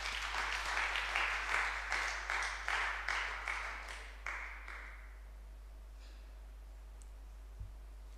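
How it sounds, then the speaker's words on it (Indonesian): Audience applause at an academic chapel service, a steady patter of many hands clapping at moderate distance that tapers off after about five seconds, leaving a quiet room with a faint hum. "Kaprodi S2 Teologi, kita beri tepuk tangan bersama-sama."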